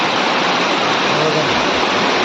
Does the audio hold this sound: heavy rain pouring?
yes